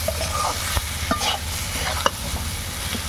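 Vegetables for Bengali village-style labra frying over low heat in a pan, a steady sizzle with repeated spatula scrapes and clinks as they are stirred, close and fairly loud.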